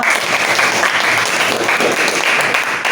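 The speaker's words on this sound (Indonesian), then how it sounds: "berikan tepuk tangan untuk Lexa" Steady applause from a class at Universitas Palangka Raya, a dense continuous patter of many hands clapping for a student named Lexa, filling the room evenly from start to finish.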